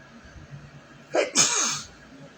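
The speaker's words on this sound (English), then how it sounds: "When I get ready to sneeze," A single sneeze, fairly close and loud, with a sharp intake then a forceful burst that trails off, over quiet room noise.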